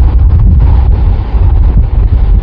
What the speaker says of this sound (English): It's so windy. I mean, just look at this. Look how windy it is.